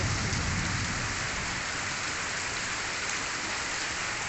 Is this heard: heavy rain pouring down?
yes